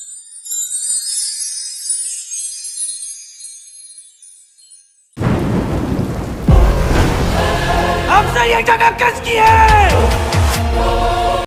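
Steady rain hisses alone at first in a film teaser scene, then gives way abruptly to a loud, dense rumble mixed with thunder-like booms and tonal musical sounds.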